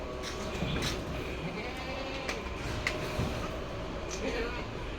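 A nanny goat with its kid bleats a few times at moderate distance at a livestock sale, amid steady background noise and people talking nearby.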